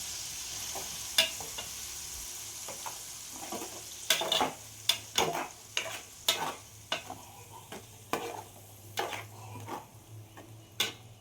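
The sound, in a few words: frying and stirring tomato onion paste for fish curry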